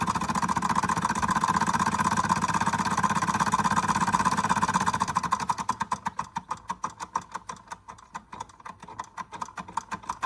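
A George Carette hot air Stirling model engine running, a steady whirring hum that settles into a rapid, even ticking beat as it keeps turning.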